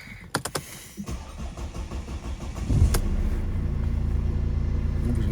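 A Mercedes SLK with 68,554 miles cranks over after a few faint clicks and catches, settling into a steady, close idle rumble with no one talking.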